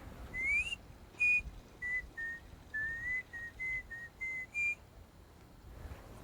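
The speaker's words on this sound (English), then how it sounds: "That's so nice of them to provide a town whistler." Someone whistles a slow tune of steady notes, fairly faint and distant over quiet outdoor background.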